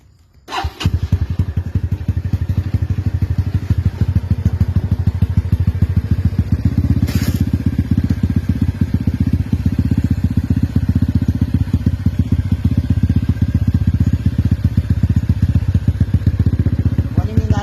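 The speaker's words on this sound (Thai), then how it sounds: "เสียงท่อผ่าของเทอร์โบนะครับ ทดสอบกับรถปี 2021อ่ะลองฟัง" A 2021 motorcycle with a turbo exhaust idles loudly and steadily with a rapid, crackling exhaust pulse, swelling into a fuller rev partway through before settling into a throbbing idle.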